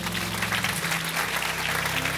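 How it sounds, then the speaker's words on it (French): An audience at a Christmas concert applauds as a speaker is welcomed: a short burst of even, steady clapping from a crowd, heard on its own. "Est-ce qu'on peut l'applaudir,"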